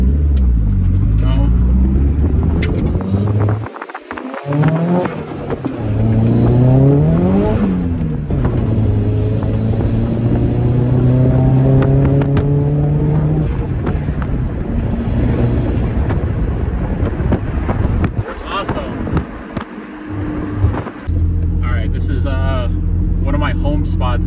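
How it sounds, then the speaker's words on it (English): A Nissan S13 with a boosted engine revs and pulls through gears on a test drive, steady loud drone with rising and falling harmonic sweeps as it accelerates, heard from inside the car while a person talks over it. "Alright, so now we're doing a little test drive, you know, see if everything's in working order."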